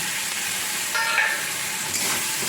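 Small pieces of raw green mango frying in spiced oil in a pan, a continuous close sizzle with faint scraping stirs underneath and no talking.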